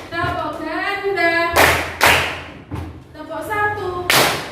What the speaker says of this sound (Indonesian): Tepuk tunggal, tepuk ganda,